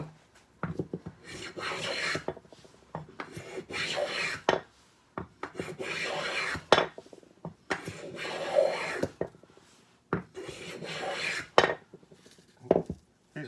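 A coffin smoother hand plane shaves a scrap oak board in a series of repeated rasping strokes, each swish followed by a short pause, close and clear.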